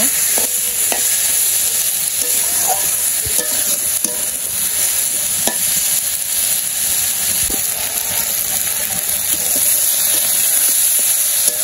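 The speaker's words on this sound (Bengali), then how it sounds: "আমি সবজি কষিয়ে নেই, কষানো এলে জল দিব।" Vegetables sautéing and sizzling in a pan in a village kitchen, a steady frying hiss with occasional scrapes and knocks of the stirring utensil, close and continuous without talk.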